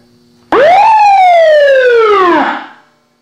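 A single loud electronic siren wail rises sharply, holds, then sweeps down and cuts off after about two seconds, close and alone.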